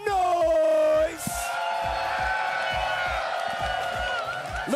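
A fighting game tournament crowd at Combo Breaker, a Capcom Pro Tour event, roars and cheers loudly. A sustained wash of shouting and whoops carries across the clip after a brief loud tonal burst at the start.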